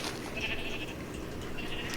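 Sheep bleating in a video game farm, several overlapping bleats repeating steadily over a constant ambient bed with no talking.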